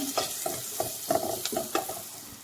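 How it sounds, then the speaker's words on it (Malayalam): Curry ingredients salted in a hot pan are stirred continuously for a side dish, with rhythmic spoon scrapes about every third of a second over a steady close sizzle. "ഇനി നല്ലപോലെ ഇത് നമുക്ക് ഇളക്കി കൊടുത്തുകൊണ്ടിരിക്കാം"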